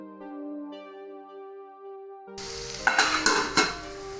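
Chopped tomatoes are added to a pot for a thotakura dish; after a sustained musical tone, a loud hiss begins, followed by a few scraping stirs and knocks.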